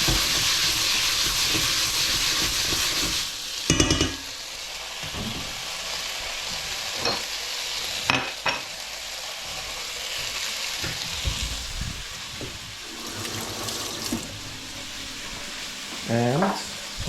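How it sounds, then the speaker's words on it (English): Hungarian nokedli dumplings fry in hot oil, giving a steady loud sizzle and hiss with occasional stirring clatters and crackles throughout. "oil is nice and hot. I'm just going to fry off the nokedli"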